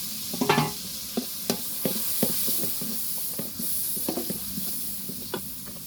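Chicken roast masala with green chilies, garlic paste and nut paste sizzling in a pan, a steady soft frying hiss broken by a string of sharp stirring scrapes and taps from a utensil.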